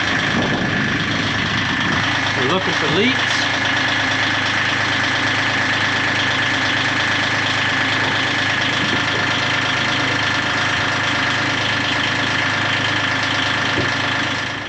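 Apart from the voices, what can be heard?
boat's starboard engine running and idling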